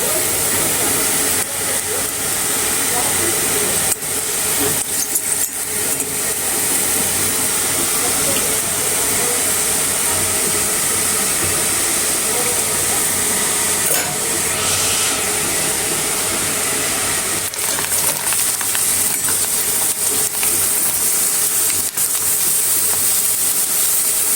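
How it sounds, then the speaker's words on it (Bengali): Pitha cakes deep-frying in hot oil, giving a loud, continuous hissing sizzle with scattered crackles and pops that lasts the whole stretch. "এইভাবে দেখেন সবগুলো পিঠা আমি ভেজে নেব।"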